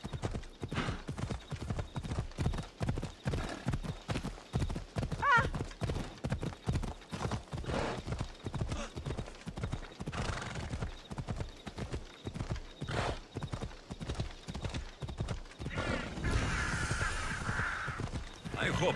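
Hoofbeats of a galloping horse in the video game Assassin's Creed Odyssey, a fast steady clip-clop rhythm running loud and close for most of the ride with game ambience underneath, then easing toward the end.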